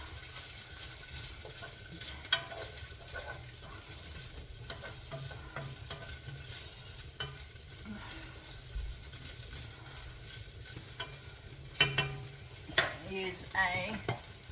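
Food sizzles and crackles steadily in a hot pan, with occasional scrapes and taps of a utensil stirring, louder clatter near the end.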